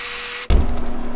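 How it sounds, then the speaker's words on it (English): Power drill starting up and boring lead out of the front section of a large grayling swimbait, a close, loud burst that cuts in suddenly and keeps grinding steadily. "I'm definitely going to drill some lead out of the front piece"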